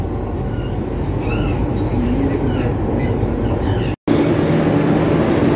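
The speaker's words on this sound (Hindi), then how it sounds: "मेट्रो हमारी फुल स्पीड पकड़ चुकी है।" A loud, steady roar of a Delhi Metro train at full speed, heard from inside, with a brief cutout near the end before the rumble resumes.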